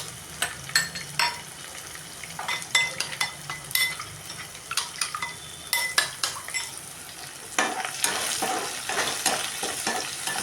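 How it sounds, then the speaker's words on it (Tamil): Turkey berries (sundakkai) being stirred and sautéed in a pan for a Tamil kuzhambu, with a soft steady sizzle under repeated sharp clinks and scrapes of a spoon against the pan, close and fairly loud. "நல்லா பாதி லெவலுக்கு வதங்கணும் இந்த சுண்டக்காய் இருக்கும் இந்த போட்டு வதக்கணும்"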